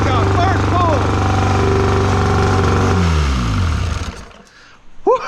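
A vintage 1958 Evinrude Fast Twin 18 hp outboard motor runs loud and close with a steady droning engine note that winds down after about three seconds, then falls quiet while a voice exclaims near the end.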